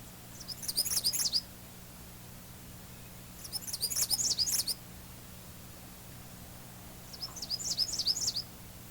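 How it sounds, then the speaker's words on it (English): An American redstart sings its two-noted song in three separate high, rapid bursts of paired notes, each about a second long, clear against a quiet outdoor background with a low steady hum. "The redstart also has a two-noted song which is similar to the black and white warbler."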